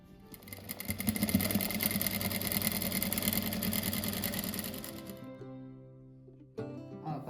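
Sewing machine stitching small rug blocks together two at a time, a steady close whirring run for several seconds that stops abruptly, followed by quieter clicks and handling of the machine.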